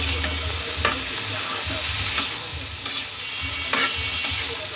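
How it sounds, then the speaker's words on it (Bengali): Broccoli and mixed vegetables stir-fried with browned onions in a pan, a steady sizzle broken by several scraping stirs at irregular intervals, close and loud. "সবজিগুলো ভালো করে আমি নাড়াচাড়া দিয়ে দিলাম।"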